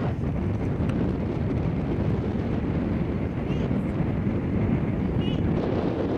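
Steady, loud wind buffeting the microphone on a mountain peak, a constant low rumbling roar throughout with faint voices underneath.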